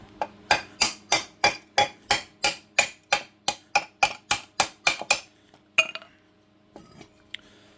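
A Beta Tools panel hammer strikes an alloy engine mount on a VW T25 in a rapid, even series of about sixteen sharp metallic blows, close and loud, followed by a couple of scattered clinks.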